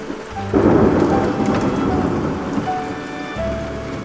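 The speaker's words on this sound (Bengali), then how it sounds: "ঝড় বৃষ্টি স্রষ্টার সৃষ্টি" A thunderstorm with steady heavy rain pouring onto surfaces and deep rolling thunder rumbling underneath, loud and continuous, with a swell of downpour partway through.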